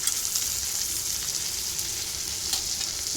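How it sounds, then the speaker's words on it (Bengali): Hilsa fish pieces, including belly cuts, frying in mustard oil on a gas stove, a steady close hiss and crackle of sizzling oil with faint stirring, no voices. "আর ওদিকে ভাবি নূরের মাছ ভাজতে দিছে সরিষা তেল দিয়ে"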